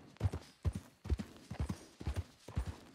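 A horse's hooves walk in Red Dead Redemption 2, a clear, close, even clip-clop of about a dozen soft thuds in steady pairs, alone without other sounds.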